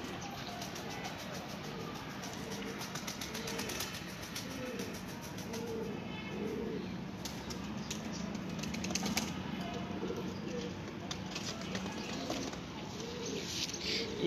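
A young pigeon with tied feathers released to fly from a rooftop, with continuous soft flapping and faint cooing under steady outdoor background noise.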